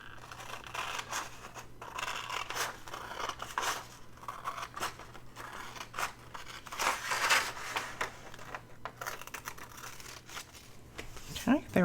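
Scissors snipping through paper in a steady series of crisp cuts, close up, with soft rustling between snips.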